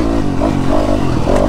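A 2024 250F four-stroke motocross motorcycle accelerates hard, its engine note climbing in steady harmonic revs over clattering mechanical noise, close and loud throughout.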